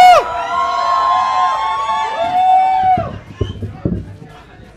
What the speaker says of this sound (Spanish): Reciba con un fuerte aplauso al invitado de esta noche, nuestro amigo Botarga, el Ramero.